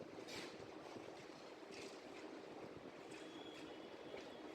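Inside Paris Saint-Lazare railway station, train ambience forms a faint, continuous low rumble with soft metallic hiss and occasional distant squeals, heard without voices.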